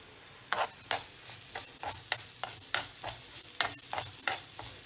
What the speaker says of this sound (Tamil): தேங்காயை நல்லா சவக்க வறுத்தணும்.